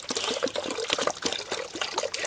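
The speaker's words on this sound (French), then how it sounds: "Allez, hop, on remplit d'eau." Water poured into a container with cardboard lining the bottom, a continuous close splashing and trickling stream without talking.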